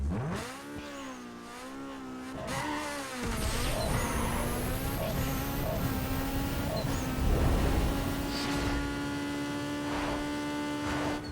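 A Mitsubishi Lancer Evo VIII 2.0L I4 makes a drag run in Need for Speed, engine revving high with rising pitch sweeps through repeated gear shifts. The sound is loud and continuous, with a brief pause before launch.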